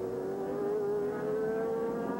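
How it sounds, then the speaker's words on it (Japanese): A Formula 3000 race car with a Honda engine heads out onto the track in 1987, its engine a steady, sustained drone at moderate distance that stays level throughout. "さあカーナンバー9のジェフリースがコースに出ていきました。"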